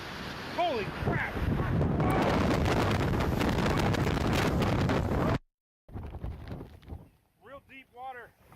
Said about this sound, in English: We are getting some intense rain, currently protected by a building.